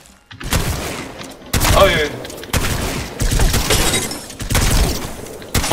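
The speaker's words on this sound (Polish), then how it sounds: "Boty już wchodzą, strzelają." Bots on a firing range in Apex Legends shooting guns, loud bursts of gunfire in repeated clusters, with a short exclamation from a player in between.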